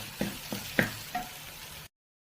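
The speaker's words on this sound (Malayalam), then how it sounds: "ഇനി നമുക്ക് ഇഞ്ചി വെളുത്തുള്ളി പച്ചമുളക് ഇട്ടു. നന്നായിട്ടൊന്ന് വഴറ്റിയതിന് ശേഷം" Ginger, garlic and green chili sautéing in a pan, heard as a few distinct stirring scrapes and soft sizzles over a quiet background, ending abruptly in silence.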